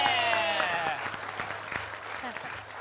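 Studio audience applauding the group on an Indonesian TV game show, steady clapping at moderate volume with a brief voice and musical tones sounding over the start before fading.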